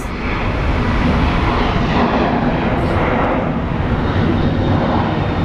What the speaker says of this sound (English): over there we have an Airbus A319, as we like to call it, the little boy. It's a tiny plane